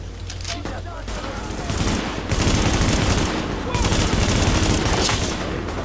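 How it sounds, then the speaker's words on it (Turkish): Gunfire in The Division video game: rapid bursts of automatic weapon fire rattle close and loud, nearly continuous, with brief gaps between volleys. "Silahım biraz sekiyor kusura bakma"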